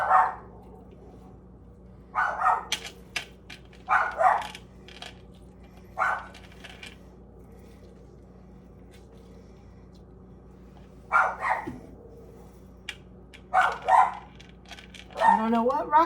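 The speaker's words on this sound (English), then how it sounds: "I don't know what Roxy's barking at, but she's hearing something" A dog barks in short bursts of two or three, spaced out over the stretch, with quiet pauses between and a whine near the end.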